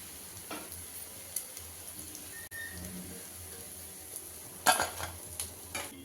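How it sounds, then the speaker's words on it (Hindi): Taro leaf pakoras fry in hot oil with a steady low sizzle, broken by a few sharp clinks and scrapes of a utensil turning them in the pan, with no voices. "इसी तरह से उलट पलट करते हुए पकौड़ा को क्रिस्पी होने तक फ्राई कर लेते हैं।"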